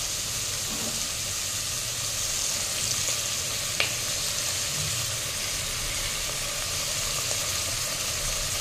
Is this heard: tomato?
yes